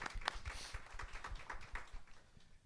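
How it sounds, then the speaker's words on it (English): Audience clapping for guests at a Texas Southern University communications week panel, a steady patter of hands from a modest crowd, fairly faint and continuous for a few seconds. "Let's give them a round of applause sometime."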